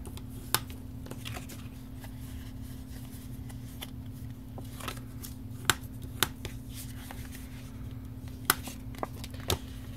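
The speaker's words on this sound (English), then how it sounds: "I'm going to fold and burnish." Cardstock folded and burnished for a Stampin' Up! mini paper box makes scattered sharp clicks and crisp scrapes over a low steady hum, close by, with no talking.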